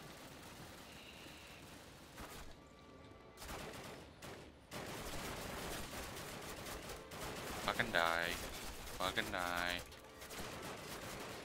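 Gunfire in the Call of Duty video game, rattling bursts and shots under a noisy battle mix, with a player's voice briefly cursing over it.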